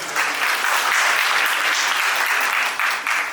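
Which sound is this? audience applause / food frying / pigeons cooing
audience applause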